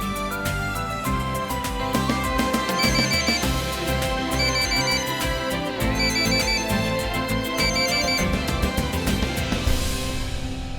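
A mobile phone ringtone plays continuously and loudly, a melodic repeating tune with a steady rhythmic pattern and no voices over it, ending abruptly near the end.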